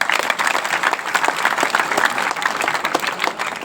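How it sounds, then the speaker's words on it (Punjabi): Steady applause from a crowd at a free kabaddi training camp on a village school ground, continuous dense clapping throughout, fairly loud with no talk over it. "ਤਾੜੀਆਂ ਮਾਰ ਲਓ ਫਿਰ"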